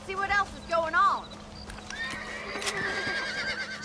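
Horses in the Red Dead Redemption video game whinny twice in close succession with sharp rising-and-falling cries, followed by hooves clopping and game ambience, with a steady low hum underneath.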